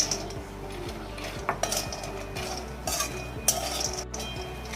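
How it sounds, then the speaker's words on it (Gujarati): Makhana (fox nuts) dry-roast in a pan, giving a steady run of light rattling and scraping clicks with a few sharper metallic stirring knocks over a low hum. "હવે આમાં હું મખાના એડ કરું. મખાના થોડા રોસ્ટ થઈ જાય"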